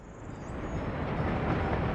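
A train in the Soviet Republic building game rumbles along as a broad, steady low roar that swells gradually, heard alone with no voices.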